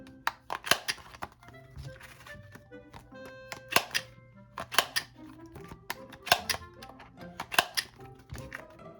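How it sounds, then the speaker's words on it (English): A Pro Rounder corner rounder punches the corners of paper A7 cash envelopes, giving a string of sharp, close clicking thunks in uneven bursts, several per second at times, with light handling rustle between them and no talking. "So I just stick the corners in, round all the corners."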